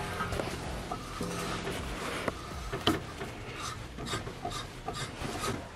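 Rust and gunk are scraped and rubbed out of bolt threads with a rasping, filing action, a steady close scratching texture running throughout with a few sharper clicks.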